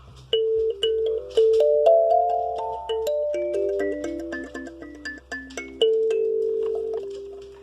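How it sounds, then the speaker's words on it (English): A kalimba plays a gentle, plucked melody of bright ringing notes that sustain and overlap, close and clear against a quiet low hum. "This beauty is called a kalimba"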